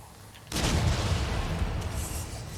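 A gunshot in the game Nioh 2: a single loud, sharp blast that breaks in suddenly over quiet background and rings on in a sustained roar.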